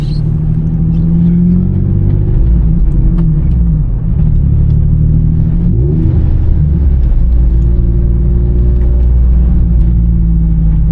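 A Nissan Z car revs hard while spinning donuts, its loud engine roaring steadily throughout with shifting pitch swells and a brief dip in revs midway, close and continuous with no talk.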